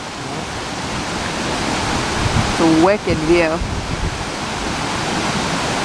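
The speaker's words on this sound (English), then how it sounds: "you can see the water flowing down that way" Water pours down at a waterfall as a steady, loud, broadband rush from start to finish, with someone speaking briefly over it.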